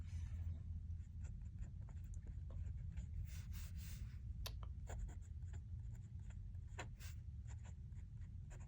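Titanium Monarch fountain pen nib with an Ultim feed scratching across paper in a steady stream of close, quiet strokes, with a few sharper ticks as the nib lifts and lands.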